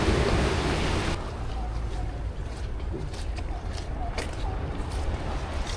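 Sea waves rush and wash against the shore near beach stairs along the San Sebastián coast, a loud, continuous roar with wind noise that is strongest at the start.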